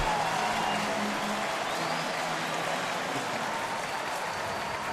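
Loud, steady crowd roar fills a baseball stadium as the Angels visit Detroit during a night game, a broad sustained wash of cheering and clapping with no breaks.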